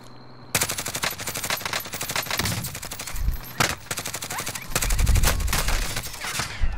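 Rapid automatic gunfire in the shooter game Modern Warfare Warzone rattles in long, dense bursts with brief pauses between them, loud and close, with heavier impacts toward the end.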